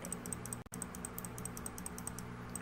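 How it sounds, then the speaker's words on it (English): Rapid left clicks of a computer mouse while playing SUPERHOT, a quick steady patter of faint light clicks with a brief dropout partway through. "I'm just left clicking, just constantly."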